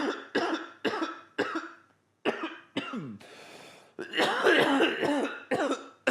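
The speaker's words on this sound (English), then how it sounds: "Classic cough." Several sharp coughs in quick bursts, followed by a rougher, longer fit of coughing and throat clearing, close and fairly loud.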